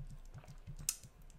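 Rapid, light typing on a computer keyboard, a steady run of soft close clicks with one sharper key strike near the middle, quiet and alone.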